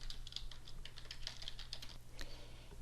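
Quiet clicking of keys on a computer keyboard as a library search query is typed, a steady run of light taps close by over low electrical hum, with no talking.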